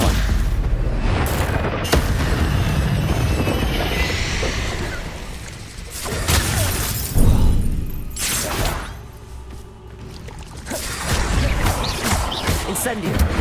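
Spell blasts cast in the Hogwarts Legacy game burst out repeatedly over a busy, noisy background, with loud booms and crashing impacts spread across the scene and game voices calling out between them.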